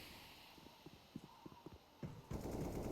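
Gunfire in the video game CS:GO during a professional match on the Nuke map, with faint short bursts of quick shots followed by a louder rush of noise.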